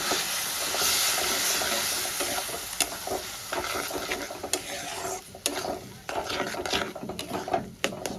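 Water poured into fried spice masala in a pan for a Bengali brinjal bharta sets off a loud hissing sizzle that slowly settles, broken by scattered sharp crackles and stirring scrapes.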